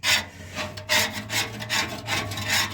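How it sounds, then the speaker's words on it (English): Steady, rhythmic scraping of residue off the inside of a cooking chamber, with loud rough strokes repeating roughly every half second, close up and alone. "Me, I just go ahead and just scrape it off."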